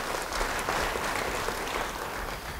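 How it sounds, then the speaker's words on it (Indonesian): Church congregation claps together in a faint, steady wash of applause heard from a distance, with no clear voices. "Ya, mau beri tepuk tangan bagi dia."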